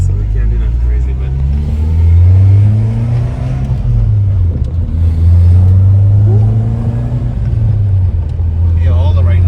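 A turbocharged Nissan S15 engine on pump gas revs up and down repeatedly with a deep, throaty exhaust note, close and loud, while people talk over it.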